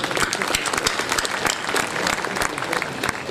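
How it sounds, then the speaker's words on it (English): An audience claps enthusiastically, with dense, sharp handclaps close by that keep a steady intensity throughout. "I think really we need a round of applause."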